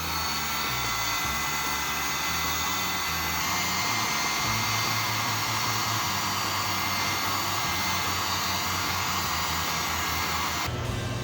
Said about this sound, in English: I'm going to go ahead and run the heat gun across it to get it, give it a glaze finish